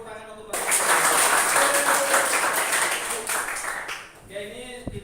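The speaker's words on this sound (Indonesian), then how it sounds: "tepuk tangan untuk Bapak." A group breaks into loud, steady clapping that lasts a few seconds, then fades as voices start talking.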